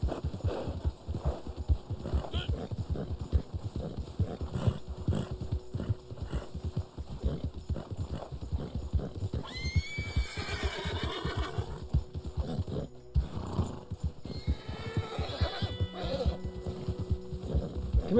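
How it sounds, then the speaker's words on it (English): A Black Arabian horse in Red Dead Online gallops with rapid, steady clip-clop hoofbeats throughout, breaking into two loud whinnies near the middle and later, with game ambience underneath. "The Black Arabian horse."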